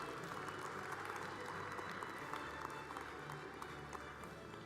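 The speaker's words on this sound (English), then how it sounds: "A round of applause for your wonderful spirit support team." An audience at a university athletics award show applauds the spirit support team. The clapping is faint and distant, a steady patter of many hands that runs for the whole stretch without a break.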